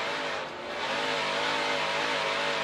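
A NASCAR Camping World Truck Series truck, driven by Stewart Friesen in a qualifying heat race, accelerates hard, its engine roaring loud and steady with a rising, churning drone and no talking.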